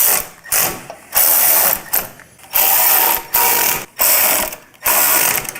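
A ratchet tightening bolts on a trailer axle during a fat tire upgrade, loud rapid clicking in repeated strokes of about half a second, with short pauses between them, close and alone.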